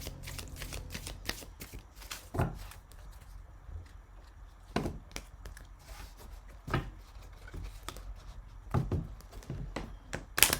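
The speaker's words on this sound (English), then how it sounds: "I'm going to pull a card on the Greek mythology cards" A deck of Greek mythology oracle cards being shuffled and pulled, with soft close riffling and repeated sharp slaps and taps at irregular intervals, quiet overall and with no talking.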